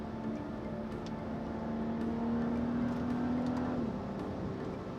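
A 2012 BMW F30 335i with its 3-liter N55 twin-scroll turbocharged engine pulls away from a stop, a steady rising whir and engine drone heard from inside the cabin, tone climbing then dropping as it shifts.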